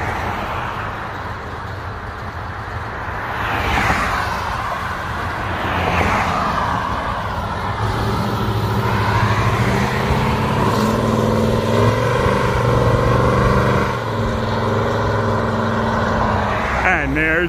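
A 1969 Chevy Chevelle SS 396 drives out onto the road, its engine rumbling and rising in pitch as it pulls away, with a person talking over it.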